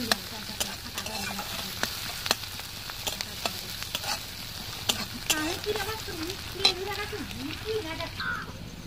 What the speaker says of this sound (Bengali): পেঁয়াজ, আদা, রসুন এগুলো ভালো করে ভাজা হয়ে গেছে।